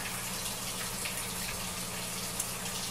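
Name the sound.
Fluval 404 filter output splashing water in aquarium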